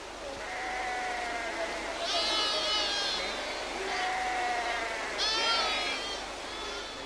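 Several sheep bleat beside a mountain stream where the flock is being washed, a series of wavering calls, some overlapping, rising over a soft background of rushing water.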